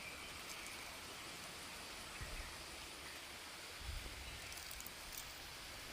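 Water trickling and splashing down from rocks in a small waterfall near a temple, a steady soft wash of flowing water at a low level with a few brief thumps.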